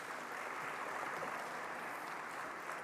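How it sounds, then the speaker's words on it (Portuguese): Sustained applause from a dinner audience at an anniversary celebration, steady and fairly dense, a crowd clapping together throughout at moderate distance with no talk over it. "As palmas são bem-vindas."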